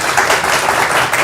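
A group applauds a cricket player with a brief, dense burst of steady clapping, loud and close.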